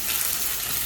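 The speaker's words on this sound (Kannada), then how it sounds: "ಇದೆಲ್ಲ ಫ್ರೈ ಮಾಡ್ಕೊಳ್ತಿದ್ದಾನೆ ಗಣೇಶನ" Onions and masala frying for a fish sambar, a steady, close hiss of sizzling oil that holds evenly throughout, with no voices.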